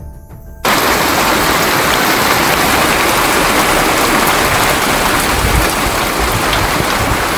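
Heavy rain pours down on Pathrapunj village in Satara, in the Sahyadri hills, as a dense, steady roar that starts abruptly and then holds loud and unbroken with no voices.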